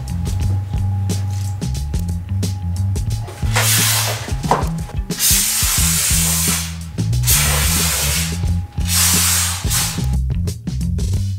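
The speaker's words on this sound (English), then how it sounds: "I'm about to spray foam." Closed cell spray foam jets from a spray gun inside a school bus being converted into a living space, a loud steady hiss in long bursts that pause briefly, over a low musical background.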